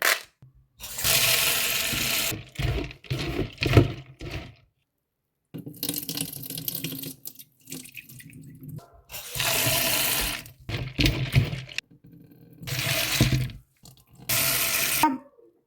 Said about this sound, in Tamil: ஊற வைக்க போகிறேன் தண்ணி விட்டு